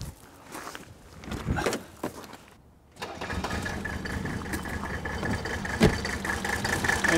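An old Mercedes 300D diesel engine cranks and turns over in short bursts, then settles into a rough, steady running clatter with some shop clanks nearby.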